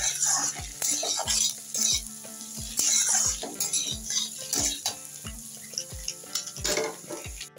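Egg and potato bhurji frying on high flame is stirred briskly with a metal utensil, giving rapid, rhythmic scraping and clinks against the pan over a continuous sizzle, close and busy, with no speech.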